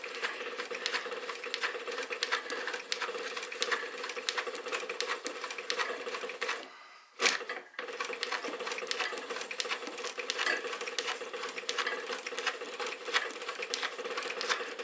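A Singer 111W155 industrial sewing machine with a servo motor stitches in a rapid, steady patter. It stops briefly partway through, then runs on again, close by and with no talking.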